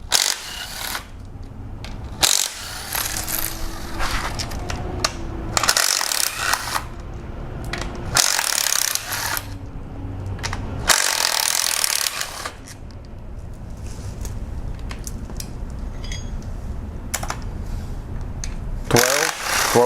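Ratchet with a 10mm socket working on Jeep Cherokee timing cover bolts, with bursts of rapid clicking and metallic rattling, near and fairly loud, separated by short pauses.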